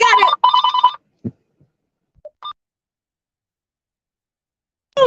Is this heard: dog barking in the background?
no